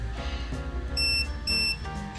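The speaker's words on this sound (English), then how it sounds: "Hold it till it beeps again." Short electronic beeps from a STACYC electric balance bike changing ride modes ring out twice in quick succession over a steady low hum, clear and close.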